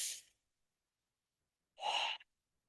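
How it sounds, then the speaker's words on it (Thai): A single deep breath drawn in during a guided relaxation exercise: one soft, airy inhale lasting about half a second, heard alone after a brief earlier breathy sound and a stretch of silence. "อ่ะหายใจเข้าลึกๆ"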